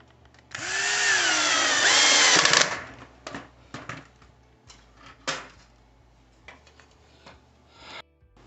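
A power drill drives screws into a wooden bathroom vanity base support, one loud whirring burst of about two seconds, followed by scattered knocks and clunks of handling wood nearby.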